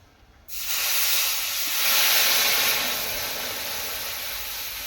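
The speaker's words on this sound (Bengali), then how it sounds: "ডালটা ফুটে গিয়েছে" Mung dal on a gas stove gives a sudden loud, steady hiss that starts after a brief quiet moment, swells, then settles into a constant steamy rush.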